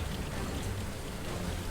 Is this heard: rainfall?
yes